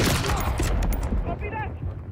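Enemy gunfire crackles in bursts during a Call of Duty Modern Warfare 3 combat scene, loud and close, with voices talking over the shots.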